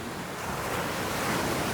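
Ocean waves break on a shore at dawn, a steady, loud wash of surf with a swelling roar and some wind rumbling against the microphone.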